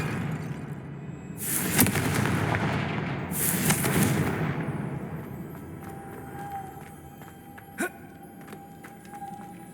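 Confringo explosive spell cast in Hogwarts Legacy, two loud booming blasts with crackling bursts about a second and a half apart, then a rumbling fade with a faint ping and a sharp crack near the end.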